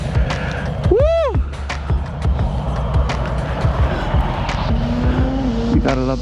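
A Suzuki GSX-R 1000 sport motorcycle is ridden at speed, its engine revving up and down loudly with a rising and falling whine over steady wind roar and close-up rumble.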